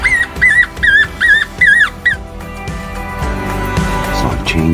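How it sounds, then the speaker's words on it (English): Electronic predator game call in South Texas plays a female coyote howl and bark: several loud, wavering howl-like cries in quick succession, followed by a lower, sustained mix of sound. "I put on a female coyote howl along with a bark"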